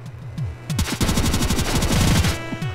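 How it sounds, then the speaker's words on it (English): Rapid automatic weapon fire from the Cave Story video game, a dense burst of quick repeated shots running loud and continuous for a couple of seconds over background game music. "it's like a machine gun"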